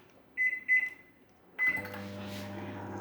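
A microwave oven drying oregano leaves on a plate gives two quick button beeps and then a third. A low, steady running hum follows, close and fairly quiet.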